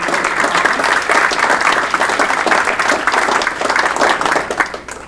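Applause at a water reclamation district board meeting welcoming a new commissioner, a loud, dense round of clapping from a room full of people, sustained evenly for several seconds before tapering off at the end.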